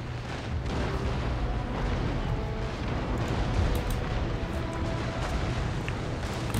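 Naval cannon fire from sailing warships in Empire: Total War, a dense continuous rumble of distant broadside booms rolling without letup, with no clear single shots standing out.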